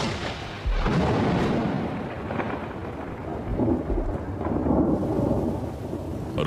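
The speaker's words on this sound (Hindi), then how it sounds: "आसमान में काले बादल दिखाई देने लगे हैं। बरसात आ चुकी है।" Thunderstorm breaking over Kakadu in northern Australia, with loud rolling thunder rumbling continuously over steady heavy rain, the roar swelling and easing without any voices.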